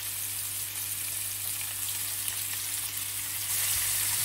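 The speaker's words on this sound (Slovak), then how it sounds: "Keď bol olej dostatočne rozohriatý, pridal som do pánvice nakrájané kúsky pliecka" Cut pieces of pork shoulder fry in hot oil in a pan, giving a steady, dense sizzle and crackle that runs throughout at close range, growing slightly louder near the end, with no talking.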